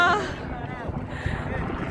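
Wind buffets a handheld microphone outdoors at a street protest, a low rumbling roar that runs steadily through the whole moment with crowd noise and voices mixed in.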